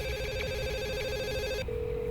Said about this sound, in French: Chérie, réveille-toi, tu n'entends pas le téléphone?